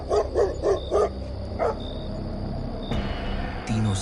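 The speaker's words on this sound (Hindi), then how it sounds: "गांव की गलियों में कुत्ते भी अचानक भौंककर चुप हो जाते थे।" Village dogs bark in a quick run of four or five sharp barks, then one more bark after a pause, fairly close against a quiet night-time backdrop.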